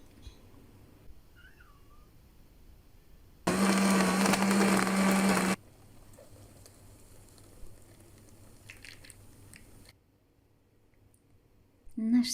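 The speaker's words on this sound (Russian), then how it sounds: "Сейчас в блендер все положим, водичку нальем и будем" Kitchen blender whirring at high speed for about two seconds as it purées pitted dates with water, a loud steady burst standing alone amid quiet room sounds.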